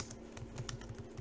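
HTML code being typed on a computer keyboard, with soft, quick key taps at a steady pace, faint and close against a low electrical hum.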